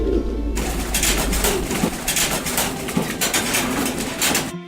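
Doves cooing inside a dove loft, several soft low coos repeating close by over a background of rustling and faint chirps, with no voices.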